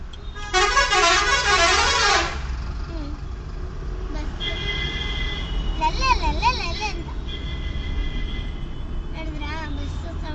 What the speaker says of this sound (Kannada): ನೋಡಿದ್ರಾ ಬಸ್ ಸೌಂಡು?